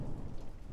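Rain and thunder ambience plays as a tabletop game backdrop: a faint, continuous hiss of downpour over a low rolling rumble, steady throughout the brief stretch, with no talk.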